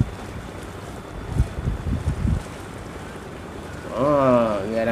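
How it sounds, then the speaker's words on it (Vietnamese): A fishing boat speeds through waves in the harbor at Khanh Hoa, a low engine rumble and a few splashing thumps under wind noise, followed by a brief voice. "Ghe đang nhảy sóng giữa cảng ghê không bạn ạ? Tăng tốc ghê không bạn?"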